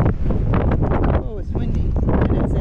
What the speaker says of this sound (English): oh, it's windy. It's windy.